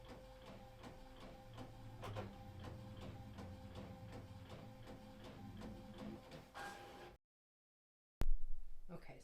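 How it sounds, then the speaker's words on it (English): A sublimation printer prints with a steady series of mechanical ticks and whirring carriage passes for several seconds, then stops, followed by a brief loud clatter after a pause. "Okay, and then I am going to print."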